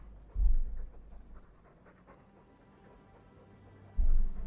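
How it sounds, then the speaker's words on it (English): A dog in the video game Dragon Age II pants softly and faintly, with a low thump at the start and another near the end. "You're a really cute dog"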